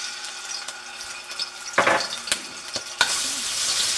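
Chopped garlic sizzling in olive oil in a deep pan, a steady crackling fry broken by a few sharp stirring scrapes and clinks, close and fairly loud.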